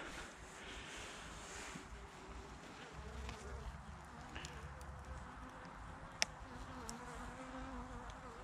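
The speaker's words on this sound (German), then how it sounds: "das ist doch mal ein mega Bienenvolk" A strong honeybee colony hums at a beehive stand in November, a faint steady buzzing drone with a few soft knocks and clicks, quiet and close.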